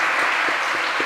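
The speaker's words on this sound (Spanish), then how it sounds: "hoy hablaba con Javier, para quien quiero pedir un aplauso muy grande, porque ha sido realmente un trabajo." Audience applause at a peace forum in Colombia, a dense, steady patter of many hands clapping throughout, fairly loud and continuous with no voices over it.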